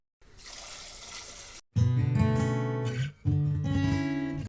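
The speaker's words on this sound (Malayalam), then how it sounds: "ചെമ്പരത്തിപ്പൂവിന്റെ ഇതളുകളൊക്കെ എടുത്തിട്ടുണ്ട്. ഇനി അത് വാഷ് ചെയ്യാട്ടോ." Tap water runs onto hibiscus petals as they are washed, a steady close splash that cuts out briefly twice and changes tone as the flow hits the petals.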